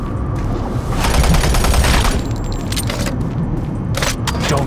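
Dense, continuous gunfire in Doom 3, a loud rattling volley that runs almost unbroken under a roar of in-game ambience and mechanical clatter, with no voices.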